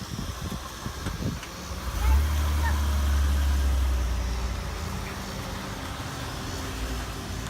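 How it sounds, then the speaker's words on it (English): Cars in a school car-rider dismissal line pull away together, a low engine rumble swelling for a couple of seconds and then fading into the background outdoors. "they will all drive off together."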